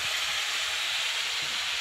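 Ginger and garlic paste for a chicken curry fries in a pan with a steady, dense sizzle that holds close and level throughout, with no voices.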